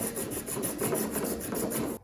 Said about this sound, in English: Then I'm going to take my hacksaw, put this off the end of the table,